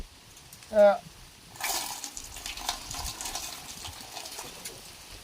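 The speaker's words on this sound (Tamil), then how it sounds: "நல்லா சுத்தமான தண்ணி விட்டு நல்ல தண்ணி விட்டு" Water pours and splashes into a container to rinse seeds for a few seconds after a brief squeak, steady and close, with no talking.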